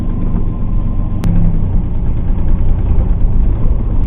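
A Pontiac Fiero GT accelerating hard, its engine a loud, steady low drone from inside the car with one brief click near the start, no talk.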